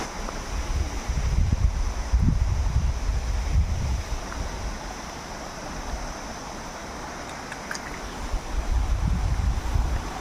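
A river flows across a road, its culvert underneath clogged, near Curug Ciberem in Sukamakmur. The water makes a steady, loud rushing hiss with low gusting rumbles, and no voices are heard.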